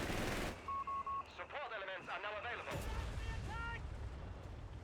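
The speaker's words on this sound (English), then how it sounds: "He's got a machine gun nest covering the cutoff" In a Company of Heroes 3 match, a machine gun nest fires rapid bursts under a crowded battlefield mix of distant blasts, chimes and other game effects.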